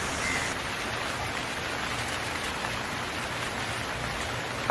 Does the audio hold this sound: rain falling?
yes